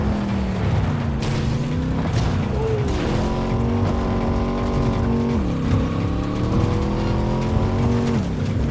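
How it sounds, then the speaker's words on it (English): A very loud vehicle engine drones steadily throughout, its pitch rising and falling with shifting revs, close and dominant with no talking. "it's a very loud vehicle in my ears"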